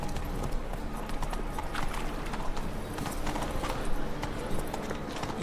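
A horse gallops in the video game The Witcher 3: Wild Hunt, with a fast, continuous clip-clop of hooves over a dense game ambience, steady and fairly loud throughout.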